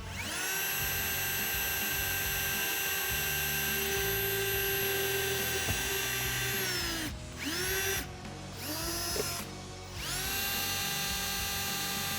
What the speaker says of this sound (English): drill out these factory plastic rivets along the edge here